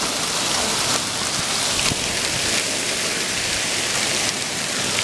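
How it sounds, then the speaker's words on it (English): Heavy rain pours down outside during a storm, a steady dense hiss of a downpour with drops drumming on surfaces, loud and continuous throughout with no talking. "It is downpouring out there."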